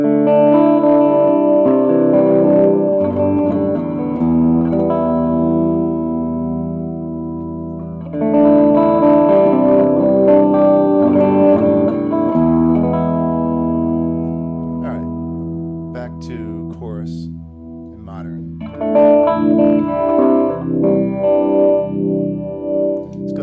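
Heavily distorted electric guitar through a distortion pedal, playing sustained chords and riffs, thick and saturated, loud and close with a brief pause between phrases.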